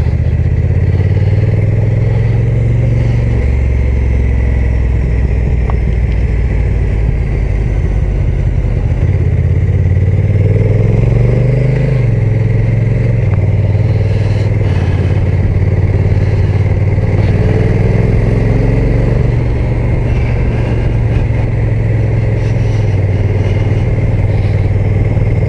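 Honda NT1100 DCT motorcycle engine running steadily while riding, a loud, continuous rough mid-pitched drone with constant rumble and slight pitch shifts throughout.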